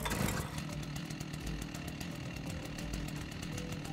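A video game chainsaw runs in a continuous buzzing drone with a rough, rattling chain texture, steady and fairly loud from start to finish, with no speech over it.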